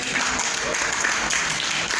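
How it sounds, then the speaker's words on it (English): An audience claps for a filmmaker being introduced at a talk, a dense, even round of applause filling the short stretch. "Please give him a round of applause."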